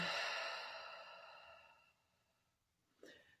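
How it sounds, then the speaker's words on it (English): A long breath pushed out through the mouth during a guided meditation, a loud airy exhale fading over about two seconds, followed by near silence and a brief soft breath at the end. "Exhale through the mouth."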